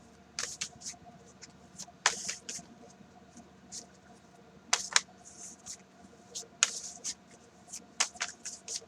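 Tarot cards are shuffled up close in quick, irregular bursts of crisp riffling and slapping, with brief pauses between, and no talking.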